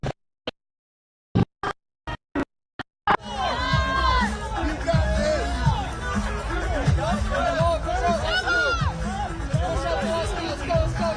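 A large outdoor crowd at an Army birthday parade competition in Washington cheers and shouts continuously, a thick babble of whoops and voices rising after a few sharp isolated knocks at the start.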